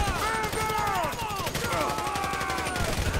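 Gunfire in a GTA 5 shootout during The Big Score mission: dense rapid bursts and overlapping shots rattle continuously, with characters' shouted voices and whining tones layered over the clamor.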